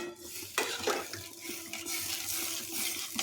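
Water poured into a potato curry while a utensil stirs and scrapes against the pot, producing clinking and sloshing at close range over a few seconds.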